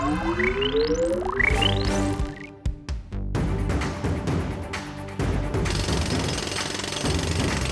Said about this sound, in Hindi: दादाजी, मैंने ड्रिलिंग शुरू कर दी है।